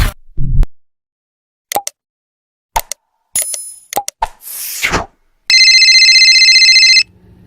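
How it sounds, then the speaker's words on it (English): A string of short bleeps and plops, then a steady electronic ringtone tone holds for about a second and a half before stopping. "Who the fuck calling my phone now?"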